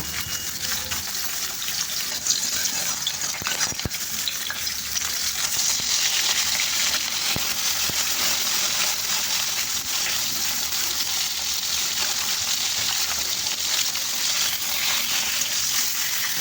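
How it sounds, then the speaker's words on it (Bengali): Fish frying in oil in a wok on a gas stove, a dense, steady hiss and crackle of sizzling that holds loud throughout, with a few sharp pops and no talking. "এবারে আমি মাছগুলোকে লাল করে ভেজে নেব"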